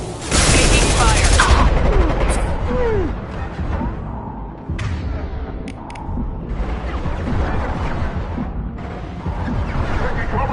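Heavy gunfire in the game Mass Effect 2, an intense opening volley followed by sporadic shots, mechanical clanks and booms, with in-game voices speaking amid the battle.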